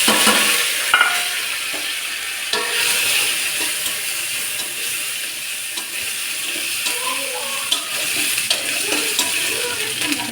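Garlic frying in oil in a pan with bay leaf and green chillies, a steady broad sizzle throughout with scattered clicks and light utensil scrapes, close and fairly loud, no talk.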